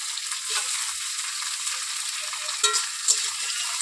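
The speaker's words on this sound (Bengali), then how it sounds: "এবার চিংড়ি মাছগুলো তেলের মধ্যে দিয়ে দেবো" Prawns fry in hot oil with onion and green chilli, giving a steady close hiss of sizzling broken by a few soft stirring clicks, with no voices.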